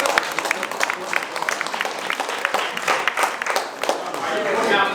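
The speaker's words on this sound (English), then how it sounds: "clap." A meetup audience claps together, a dense spread of hand claps filling the room for a few seconds, fairly close and steady, swelling slightly toward the end.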